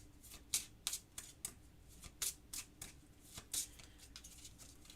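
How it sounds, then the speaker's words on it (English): A deck of board game cards, the Badlands deck from Gloom of Kilforth, is shuffled up close, giving a run of crisp, papery riffling bursts in quick irregular succession over quiet room tone. "I'll give the Badlands deck a quick shuffle."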